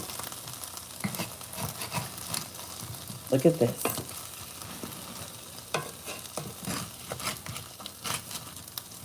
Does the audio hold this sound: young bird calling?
no